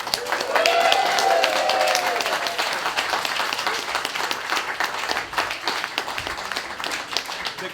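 Audience applause for bakers at a community bake-off charity evening in Wrexham, a dense crowd clapping loudly that holds steady and slowly thins over several seconds, with a voice speaking over it early on.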